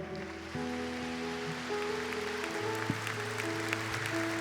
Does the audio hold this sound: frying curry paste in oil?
no